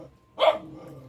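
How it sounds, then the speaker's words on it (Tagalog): A thin dog gives one short, sharp bark at moderate distance, with quiet surroundings before and after. "Ang payat ng aso."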